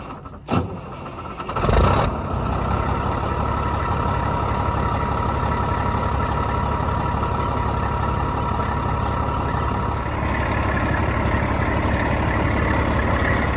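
A truck engine cranks and fires up, a couple of sharp bursts at the start, then settles into a steady loud idle while the airbag suspension raises the truck, with the drone continuing unchanged.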